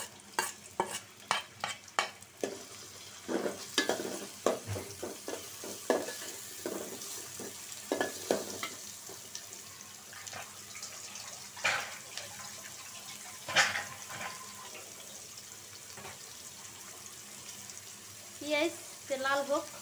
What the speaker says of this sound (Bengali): দিয়ে দিব তেল আর পেঁয়াজ, কাঁচামরিচ, রসুন